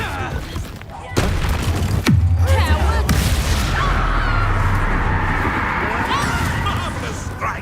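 A Confringo explosion spell blasts in a video game with a sharp boom, followed by a sustained crackling, rumbling burn, loud and close over continuing game voices and effects.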